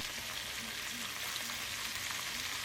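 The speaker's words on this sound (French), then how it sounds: "vous allez les faire frire sur tous les côtés pour que ça soit vraiment très bien doré" Pieces of oxtail fry in a pan, browning on all sides. The result is a steady, moderately quiet sizzle and crackle with no one speaking.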